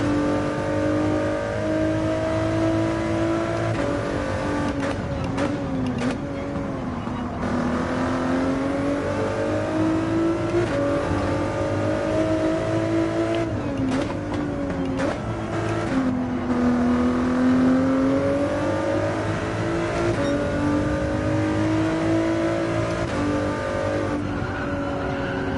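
Race car engine in a racing video game, revving steadily with rising and falling pitch as gears change, loud and continuous throughout with brief tyre squeals and no talk over it.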